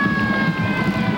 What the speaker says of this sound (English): There's an ambulance here, not to treat anybody, but just to have the siren go off after every touchdown for Los Alamitos.